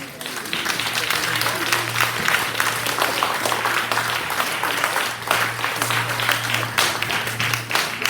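A church congregation claps and cheers together for several seconds, a dense wash of applause with voices mixed in and a low hum beneath.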